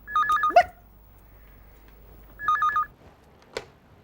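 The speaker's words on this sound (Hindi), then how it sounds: "टेलीफोन की आवाज कहाँ निकाल रही हो?" Two short electronic telephone ring bursts a couple of seconds apart, trilling and warbling, with brief clattering noises in between.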